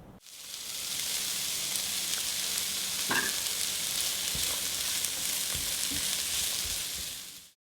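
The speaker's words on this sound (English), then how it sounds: "Now that we have them sauteing in our pan, we're going to add our 2 teaspoons of herb Italian seasoning." Vegetables sauté in a pan with Italian herb seasoning, giving a steady moderate sizzle throughout with one brief clink of a utensil partway through and a few soft knocks.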